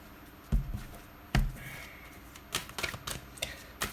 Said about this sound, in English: I'm going to split the cards.